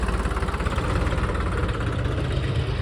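A farm tractor engine, brought along with a potato planting machine, runs close by with a loud, steady, low chugging throb and a slight knocking pulse, with no talk.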